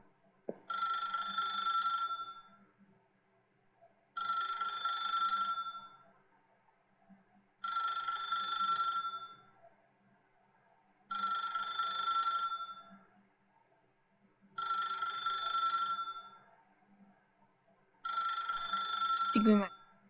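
A telephone bell rings in six regular bursts of about two seconds each, with short silent gaps between them, in The Stanley Parable: Ultra Deluxe video game. A brief click closes the final ring.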